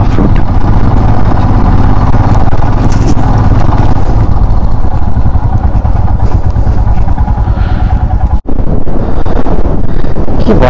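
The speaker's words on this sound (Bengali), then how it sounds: "কি বাতাস দিচ্ছে, সব উড়িয়ে দিচ্ছে একদম যাবে বলে।" Strong wind roars into the microphone during a motorcycle ride through Lower Mustang, Nepal, a loud, continuous buffeting rush over the engine drone with a brief dropout near the end.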